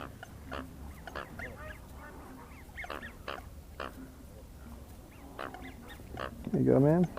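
Geese or ducks honk while being hand fed outdoors, with scattered nasal honks and quacks, a louder burst of calls close by near the end, and people talking throughout.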